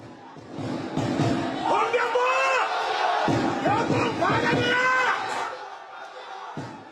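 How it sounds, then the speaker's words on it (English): A crowd of fans at an airport yells players' names in loud, overlapping bursts of shouting and cheering that swell and fade over several seconds. "Fans were shouting the names of each player, expressing gratitude for the team's memorable run."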